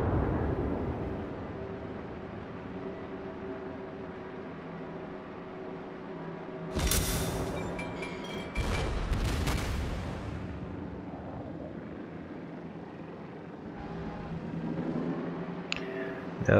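Heavy naval guns firing salvos in a video game battle with a cruiser and the battleship Fuso, two loud broadband blasts in close succession midway, rumbling decay over a low engine-like drone, with a smaller burst near the end.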